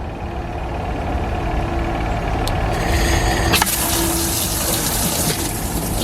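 Water from a hose gushes into the tub of a portable washing machine, a loud, steady rush that swells and brightens partway through as the flow splashes harder.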